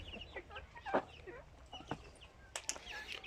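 Backyard chickens cluck in short irregular bursts, close and fairly quiet, with a sharper squawk near the end and no voices.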